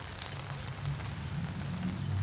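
Light rain patters softly and steadily over an outdoor Memorial Day ceremony, a faint, even wash of drops with no voices heard.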